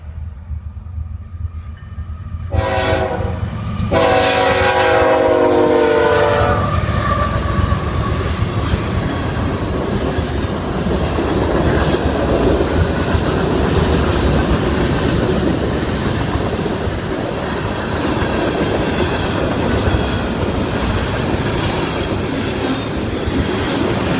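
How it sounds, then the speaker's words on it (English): A fast westbound freight train from Buffalo toward Erie blasts its horn in rising, pulsing bursts, then roars past close by with a sustained loud rumble and clatter of wheels for the rest of the stretch. "Train is coming from Buffalo, heading westbound towards where we were in Erie. Sounds like a pretty fast-moving train."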